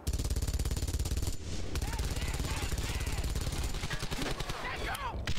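Rapid sustained gunfire in the World War II shooter Brothers in Arms: Hell's Highway, a dense, loud machine-gun rattle running almost continuously with brief gaps, with no voice over it.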